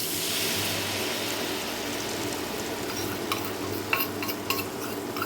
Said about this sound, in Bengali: এখন আমি এটাকে খুব ভালো করে একটু কষিয়ে দিব যতক্ষণ না মশলার থেকে তেল ছেড়ে দিচ্ছে